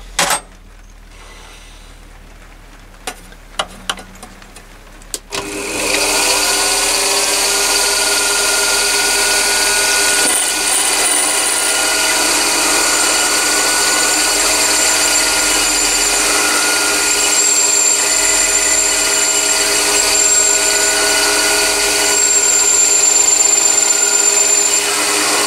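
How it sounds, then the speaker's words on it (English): A core drill on a mini lathe or Myford ML7 cuts a side hole in a cross-drilling adaptor for a quarter UNC thread, starting after a few clicks and knocks into a loud, steady motor whine that runs on unbroken. "Then I'm going to use a core drill for a quarter UNC thread."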